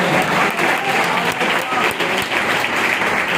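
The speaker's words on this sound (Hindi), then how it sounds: "ताली बजाकर प्रभु को धन्यवाद दो" A church congregation gives loud, dense, sustained clapping in thanks to God during a 25th anniversary celebration at Filadelfia church in Surat, continuing without a break.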